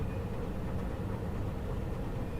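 Train rolling along in the video game Paradise Lost, a steady low rumble of wheels and engine that runs evenly throughout at moderate level, with no speech.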